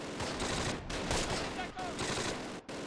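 Bursts of rifle and machine-gun fire fill a skirmish in the WWII strategy game Close Combat: The Longest Day, rattling near-continuously and loud with brief gaps, while a voice talks over the shooting.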